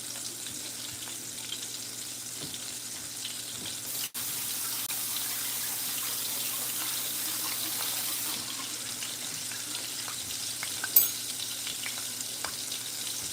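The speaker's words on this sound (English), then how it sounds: "Now we're frying." Food frying in oil in a pan, a faint, steady sizzle running through with occasional small clicks and one brief sharp knock.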